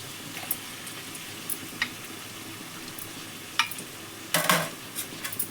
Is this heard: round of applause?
no